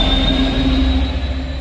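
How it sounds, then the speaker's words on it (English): Class 66 diesel locomotive 66592 running alone as a light engine at Thirsk, a loud, close, steady mechanical drone with a sustained tonal hum and faint rail noise throughout. "It's a locomotive only"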